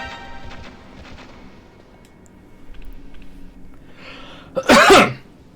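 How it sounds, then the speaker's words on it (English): A single sharp, loud sneeze from a person near the microphone during a Metal Gear Solid PC speedrun session, following a stretch of quiet game sounds. "Bless you."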